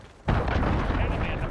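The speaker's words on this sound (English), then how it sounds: "Enemy cruise missile." A cruise missile strike blasts in Call of Duty: Modern Warfare, a sudden loud boom followed by a sustained rumbling roar of debris and fire.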